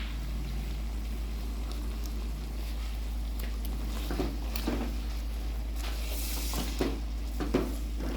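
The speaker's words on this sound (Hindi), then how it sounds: "अब हम इसको अच्छी तरह भूनेंगे" Mutton karahi fried and stirred in a pan after green chilli paste goes in, a steady low sizzle with scattered scraping stirs growing busier toward the end, close and alone.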